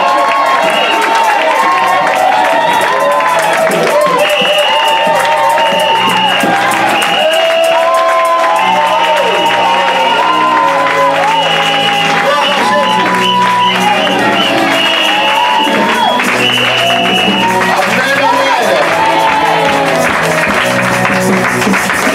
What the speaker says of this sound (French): J'aime quand on acclame le Seigneur en coupe de cris de joie.